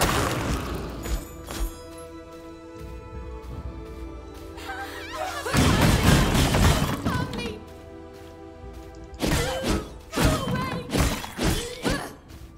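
Objects being smashed during a boss fight with Raziel the Shepherd in a video game, a series of loud thuds, crashes and shattering bursts with a lingering background drone.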